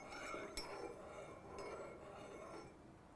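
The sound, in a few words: spoon stirring honey into tea in a glass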